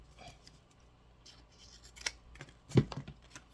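Scissors cut a shielding piece for a guitar build: a few quiet snips and rustles building to a sharper close cut, faint and near.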